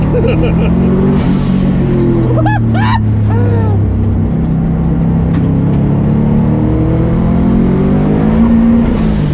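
A built Subaru WRX GC8 on a race track at Luddenham Raceway runs at half throttle, its engine droning loud and steady throughout, with rising tonal sweeps as it pulls and people talking excitedly over it.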